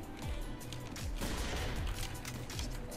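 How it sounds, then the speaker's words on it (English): Gunfire in a first-person shooter game, several sharp shots spaced roughly half a second apart, each with a low thudding tail, over steady background noise at moderate level. "Oh, that was a sniper."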